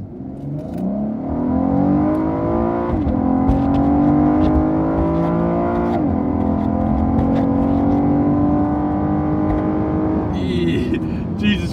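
A car accelerates hard from a slow roll, its engine climbing loudly through the revs with a shift partway through, then easing off, heard from inside the cabin.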